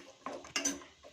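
A spoon scrapes and clinks against a pot while tomato bath ingredients are mixed, giving a few short, close, quiet metallic knocks.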